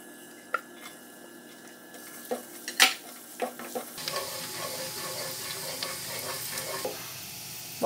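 Garlic frying in a little oil in a pan, a soft sizzle rising after a few sharp clinks and taps of a utensil against the pan.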